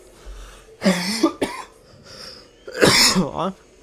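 A few harsh coughs and throat-clearing bursts from a nearby person, in two short clusters separated by a quiet pause.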